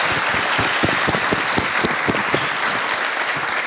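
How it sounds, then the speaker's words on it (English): A crowd applauds at a university college opening event, with dense, steady clapping that stays at an even level from start to finish. "let's give them a round of applause"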